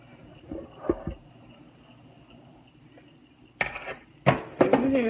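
A knife cuts bell peppers in a home kitchen, with a few scattered chopping knocks and then a quick cluster of sharper cuts against a faint, steady background hum.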